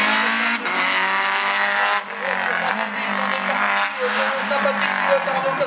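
Rally cars race through a slalom course at Agon-Coutainville, their engines straining and revving loudly with continuous roar and some tyre noise. A commentator talks over the cars the whole time.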